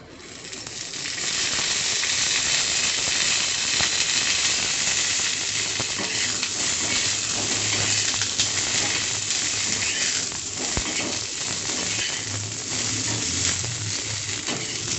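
Tomatoes sizzle and fry steadily in hot oil for a country chicken curry, a dense continuous crackle that holds close and loud throughout with occasional stirring and no talk.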